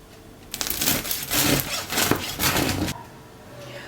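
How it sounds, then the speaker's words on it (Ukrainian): A knife saws through a crusty loaf of rye-wheat sourdough bread, giving about two seconds of close, crackling strokes across the crust, followed by quiet. "Зараз розріжемо і подивимося, що всередині."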